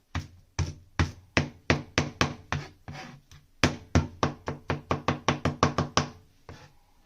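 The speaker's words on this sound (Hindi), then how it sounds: "टमाटर के साथ मैं हरी मिर्चें भी चॉप कर रही हूँ।" A knife chops green chillies and tomatoes on a board, a quick series of about twenty sharp, close knocks in uneven bursts with short pauses, loud and alone with no talking.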